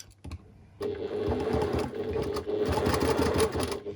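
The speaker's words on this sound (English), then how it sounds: "I then sew a 1/4 of an inch down the side" After a couple of soft clicks, a sewing machine whirs steadily up close, stitching a quarter-inch seam down the side of a quilt block.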